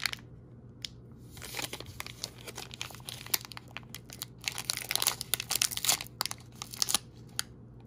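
A Panini Complete 2016-17 basketball card pack, 35 cards, is torn and crinkled open, its foil wrapper giving dense irregular crackles and rips that build over several seconds, close and clear with no talking.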